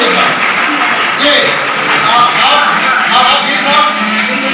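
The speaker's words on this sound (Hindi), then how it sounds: "जोरदार तालियां" Loud, sustained clapping from a large crowd at a business seminar in a big hall, dense and continuous with chatter and voices mixed in throughout.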